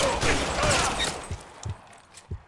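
Gunshots crack in the video game LA Noire: a dense burst of firing at first, then a few scattered single thumps that fade toward the end.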